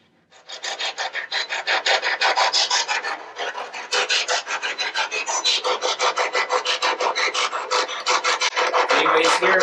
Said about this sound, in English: This is the brand new SBox from Ghost Stop.